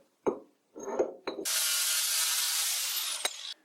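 A power tool, likely an angle grinder, cleans scale off a metal workpiece before welding for a small wood lathe faceplate, starting with a few short bursts and then running as one loud, steady, close grind.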